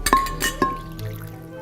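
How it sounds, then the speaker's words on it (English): Baby wipe solution poured over a half paper towel roll standing in a container, heard as a few close clinks and short liquid splashes followed by a quieter trickle. "Pour the solution over the roll."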